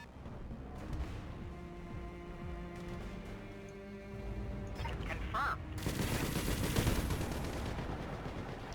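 Mech weapons in the Battletech game fire in a heavy barrage, with a low rumbling lead-in giving way to a dense, loud volley of blasts lasting several seconds.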